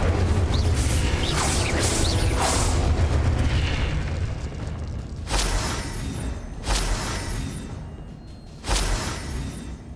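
Incendio fire spell cast in Hogwarts Legacy, a roaring fiery rush at first, then three sudden booming bursts of flame spaced a couple of seconds apart.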